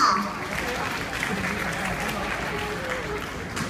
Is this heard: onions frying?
no